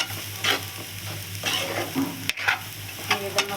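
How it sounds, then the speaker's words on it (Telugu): Bitter gourd stir-fried with lentil powder in a pan gives a close, continuous sizzle with rhythmic scraping stirs every second or so and a few sharper clatters of the spatula. "ఈ విధంగా బాగా మిక్స్ చేసుకోవాలి"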